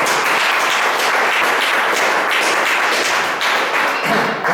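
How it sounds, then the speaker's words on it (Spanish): A church congregation claps loudly and steadily in dense, continuous applause from start to finish, with no voices standing out. "denle un aplauso al Señor Jesucristo si me está entendiendo"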